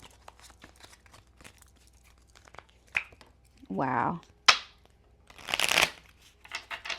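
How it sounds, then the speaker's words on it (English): Tarot cards are riffled and shuffled by hand in quick papery bursts, with crisp flicks and slaps between them and a brief exclamation from a voice. "I'm going to put it back and then I'm going to shuffle."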